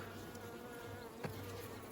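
Soft, steady buzzing of many honeybees in an opened hive close by, a continuous hum with one brief louder bee passing near.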